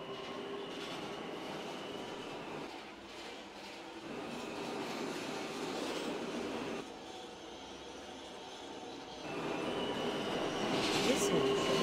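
A B subway train at Fairview Avenue station rumbles steadily throughout with a continuous metallic roar, the level dipping briefly and then swelling near the end as the wheels squeal faintly.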